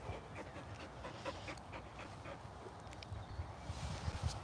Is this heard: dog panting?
yes